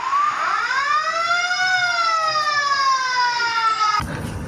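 A small red toy fire truck wails with a loud, steady electronic siren, its pitch sweeping up and holding for about four seconds before cutting off abruptly, with no talk over it.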